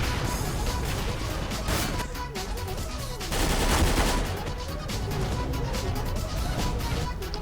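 Rapid bursts of gunfire in Counter-Strike: Global Offensive, dense overlapping shots forming a sustained volley, loud and close, with a swell of heavier fire midway.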